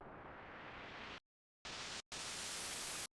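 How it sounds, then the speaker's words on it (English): Broadband white noise effect in a music track breakdown, a loud hissing wash that cuts out abruptly, returns in short bursts separated by hard silent gaps, and ends in a brief final blip. "Then in the breakdown we have this white noise effect."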